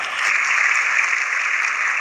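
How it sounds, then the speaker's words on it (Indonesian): Applause in honour of NKRI (the Unitary State of the Republic of Indonesia) at a religious talk, a steady, dense wash of clapping from a large crowd that holds evenly for two seconds with no talk over it. "Tepuk tangan untuk NKRI."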